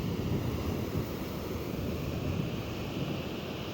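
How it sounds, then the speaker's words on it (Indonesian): Ocean surf rolling onto the beach at Simeulue, a continuous dense wash of waves with wind buffeting the microphone, fairly steady and without talk. "Itu ombaknya keren sekali teman-teman"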